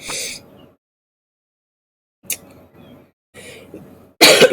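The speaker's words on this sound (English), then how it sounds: "I apologize if I need to clear my throat a time or two." A few short throat-clearing coughs, close and fairly loud, separated by stretches of near silence.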